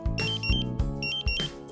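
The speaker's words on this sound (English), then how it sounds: "The alarm on the Dräger Pac 8500 with dual sensors differs from the other models." A Dräger Pac 8500 dual-sensor gas detector in alarm, sounding loud, close, rapid repeating electronic beeps in short bursts with no voices.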